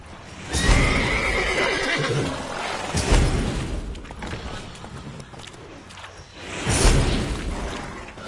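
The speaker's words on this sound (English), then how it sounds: "Gotta calm all the horses before they wake the guards." Several horses neigh and whinny in a stealth video game, with loud bursts spaced apart and hoof clatter between them, close and clear over a busy game soundscape.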